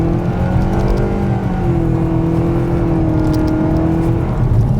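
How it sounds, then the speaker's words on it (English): A 2026 Nissan Kicks with a CVT accelerating from a standstill, its engine holding a steady, droning pitch that rises slowly and evenly, loud and continuous from close inside the cabin with no talking. "let's see how quickly we can get our new 2026 Nissan Kicks here up to speed"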